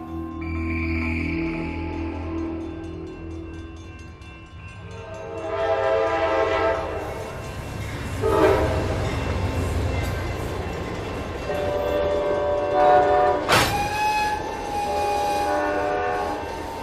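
A train pulls into Ramgarh station at night. Rolling rumble and clatter swell and fade before a sudden loud horn blast near the end, followed by a sustained whistling tone.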